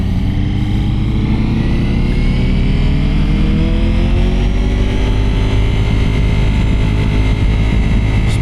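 A Suzuki GSX-R and a Kawasaki Ninja sport motorcycle ride off together, engines droning loud and steady with rising, shifting tones as they pull away.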